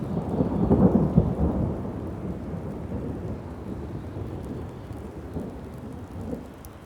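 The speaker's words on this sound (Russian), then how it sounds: "иногда гремит гром" Low thunder rumbles through steady rainfall in a forest; the rumble swells early, then fades under the continuous patter of rain.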